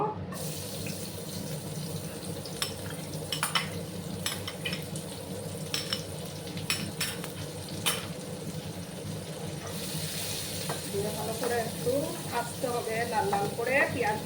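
Chopped onion, a large one, and four or five cloves of garlic hitting hot oil in a pan for an egg curry with mustard and poppy seed paste, a steady loud sizzle with stirring clinks, no talking.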